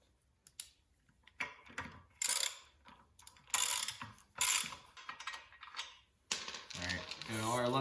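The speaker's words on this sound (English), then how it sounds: "Get all our lug nuts off this tire." Stubborn lug nuts being worked off a vehicle wheel during a tire rotation, heard as close, uneven bursts of ratcheting and clanking metal with pauses in between, ending in a sustained mechanical whir.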